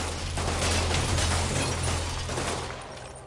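Gunfire from a Spider-Man video game: a dense, noisy burst of rapid shots that rises and then tails off, heard alone and fairly loud.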